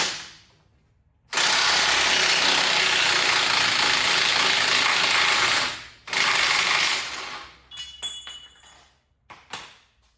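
A half-inch impact wrench runs in two long, loud, harsh bursts separated by a brief pause, working on a C/10 truck restoration. Lighter metallic clinks and rattles follow as the tool winds down.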